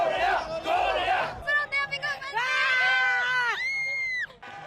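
Korean supporters in World Cup stadium stands shout and chant in unison, loud crowd voices rising into long sustained rhythmic cheers, with a brief drop in the middle and a sudden cutoff near the end.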